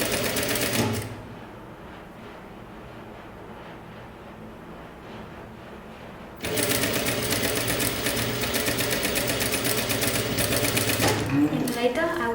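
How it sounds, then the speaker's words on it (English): A sewing machine stitches two kimono jacket pieces together in a loud, fast whirring burst at the start and again from the middle to the end, with a quieter pause between. "And then I start to sew two parts together"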